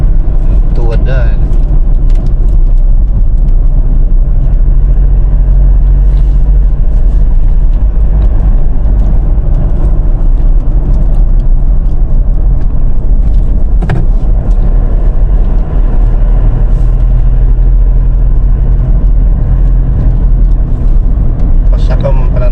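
A tricycle's motor rumbles low and steady throughout a road ride, constant and fairly loud, with voices talking over it now and then.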